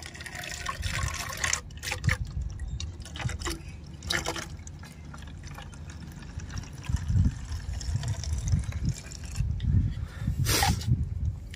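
Homemade garden insecticide liquid pours into a spray bottle as a close, continuous trickle and gurgle of liquid, with a few light knocks and handling noises.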